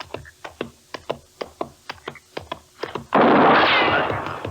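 Gunshots in a radio western drama set near a campfire: about a dozen sharp, evenly spaced cracks fire in quick succession, followed by a longer roaring burst of noise.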